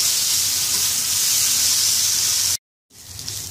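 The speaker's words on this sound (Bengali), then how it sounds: "চুলার আঁচটা ফুল আছে রেখে আমি এটাকে ভাজছি, একেবারে পানিটা শুকিয়ে যাওয়া পর্যন্ত ভালোভাবে ভেজে নেব।" Grated vegetables and boiled chicken mince fry over full heat in a pan, giving a loud, steady hiss that breaks off into a brief silence before the sizzle resumes more quietly.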